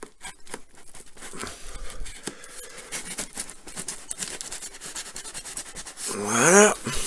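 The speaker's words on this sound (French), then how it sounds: "On va tout de suite commencer à déballer" Cardboard parcel being opened by hand: close rubbing, scraping and tearing of cardboard and packing, uneven handling noises with a sharper ripping burst near the end, no talking.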